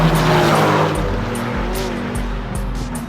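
A motorbike passes on a road near a bridge, its engine droning loud and close with rising and falling revs and a brief tire-like squeal, and no voices.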